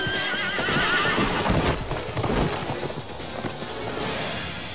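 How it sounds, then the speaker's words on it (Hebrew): Agitated horse at a ceremony whinnies loudly and shrilly, with heavy hoof stamping and clattering scuffles close by, continuous and chaotic. "הסוס מתחיל להתפרע, רומס את המאלף שלו, ומעיף את ראש הממשלה לקרקע"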